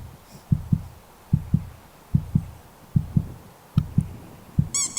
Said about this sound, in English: Cue the heartbeat noises.